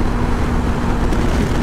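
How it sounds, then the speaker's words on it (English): Honda CB500X motorcycle engine held near 7000 RPM while riding fully loaded with a pillion and luggage, a loud steady drone blended with wind rush, continuous and close. "I can hear an engine pretty loudly, but that's understandable because it's at the moment on 7000 RPMs."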